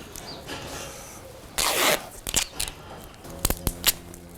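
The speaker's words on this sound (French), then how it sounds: "Après je mets un tour de scotch." Adhesive tape being pulled and unrolled around a calving sensor on a cow's tail, a close rasping strip followed by several short ripping and crackling bursts, with no talk.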